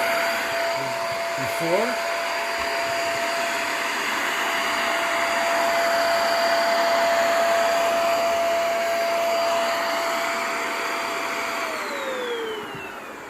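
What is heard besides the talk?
vacuum cleaner running on a rug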